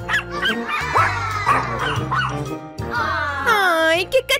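Puppies bark and yip in short bursts close by, mixed with excited children's and adult voices talking over them at a lively birthday party.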